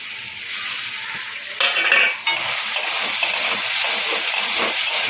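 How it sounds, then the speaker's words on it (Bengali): Soybean chunks and spices dropped into hot oil for a soyabean stew, setting off a steady loud sizzle with a sharp burst of spattering near the start, then continuous frying hiss with occasional stirring and utensil clinks. "তেলটা গরম হয়ে গেছে আমি এগুলো সবগুলো এর মধ্যে ছেড়ে দেবো"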